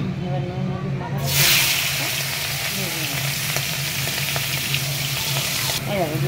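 Shrimp coated in salt and turmeric hit hot oil in a home kitchen pan, setting off a sudden loud, steady sizzle that hisses on for several seconds, with a person talking underneath.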